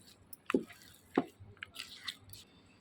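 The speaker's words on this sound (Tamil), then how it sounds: "இப்போது நல்லா மிக்ஸ் பண்ணி விட்டுடலாம்." Pongal being stirred and mixed in a pot, with a few soft wet squishing, dripping strokes at irregular intervals, close and quiet, with no talk.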